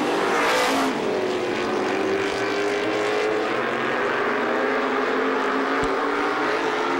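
A supermodified race car at Star Speedway roars past close by, its engine note loud at first then trailing into a sustained drone as it runs on around the track.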